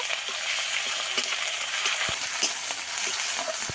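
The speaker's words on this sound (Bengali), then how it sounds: "রসুন বাটা আবারও ভালো করে একটু ভেজে নেব" Garlic paste frying in a pan with onions gives a steady, close sizzle with occasional soft scrapes, carrying on without a pause and with no voices.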